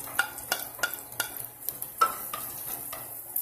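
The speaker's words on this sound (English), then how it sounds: "Stir fry natin yung garlic." Garlic stir-fries in hot oil with a soft, steady sizzle, broken by regular scraping strokes of a utensil against the pan, close and fairly quiet.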